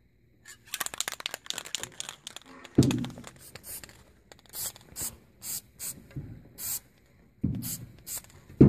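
Short bursts of hissing spray of crystal clear enamel lacquer from an aerosol can, repeated in an irregular series with small handling thuds and clicks between them, close up and without speech.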